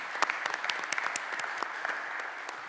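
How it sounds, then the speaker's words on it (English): Scattered applause in a committee hearing room, a thin, quiet patter of individual claps from a small group, with distinct sharp hand claps standing out. "Can we get a round of applause for these new homeowners?"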